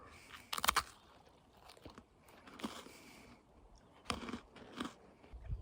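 Close, crisp crunches of someone chewing a crunchy, sweet freeze-dried treat while camping in Algonquin, a few sharp bites followed by intermittent chewing bursts in a quiet setting without talk.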